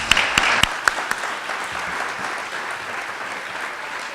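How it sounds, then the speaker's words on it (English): An audience claps together in a steady round of applause, a few sharper claps standing out at the start before the sound settles into an even wash. "Let's give the panelists a round of applause."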